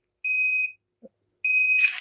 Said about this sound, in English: the buzzer is giving us the alarm